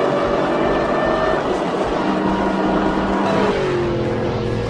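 A 2003 Ford SVT Cobra accelerates hard on a track, its engine note loud, close and sustained, with harmonics sliding as the revs shift.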